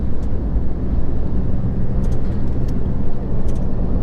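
A vehicle drives along a compacted gravel farm track, a steady, loud, close low rumble of engine and tyres that holds without a break throughout, with faint crunching ticks coming through above it.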